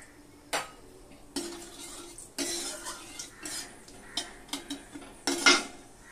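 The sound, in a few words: cumin and dried red chili sizzling in hot oil while stirring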